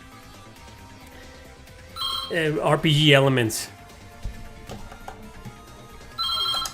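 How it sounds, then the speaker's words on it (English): A cell phone ringtone plays a loud, close, warbling melodic burst, goes quiet, then starts again near the end, while someone talks around it. "That's my phone."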